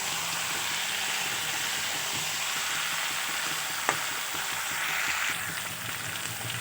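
Spicy chicken kosha sautéing in hot oil in a pan, a steady, dense sizzle and hiss throughout with one sharp clink near the middle.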